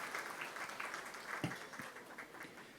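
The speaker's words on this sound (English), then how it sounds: "Please give them a nice big round of applause, ladies and gentlemen" Diners at a gala dinner applaud, giving soft, distant clapping that blends into a steady wash for a few seconds, with one slightly sharper clap standing out midway.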